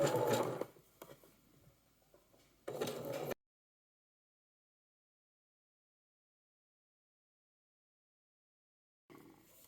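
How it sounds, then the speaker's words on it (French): Domestic sewing machine stitching elastic onto a neckline, a steady close whirring run of stitches that stops, then a short second burst, followed by a long silence and a brief resumption at the end. "je me cale bien sous mon pied presseur, je plante mon aiguille et je tire mes fils et c'est parti"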